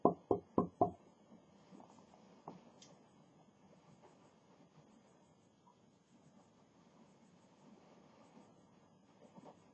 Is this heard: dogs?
no